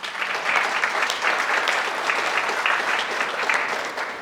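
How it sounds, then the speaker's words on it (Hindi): Audience applause at a live Hindi talk session, a dense, steady clapping that holds for several seconds without a break and without speech. "चलो जोरदार तालियां हो जाए।"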